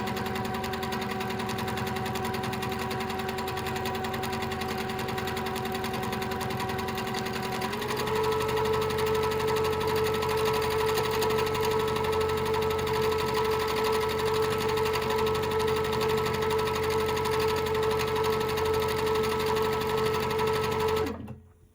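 A sewing machine free-motion doodle quilting runs in one continuous, steady whir for about twenty seconds, shifting to a slightly faster pitch partway through, then stopping abruptly at the end.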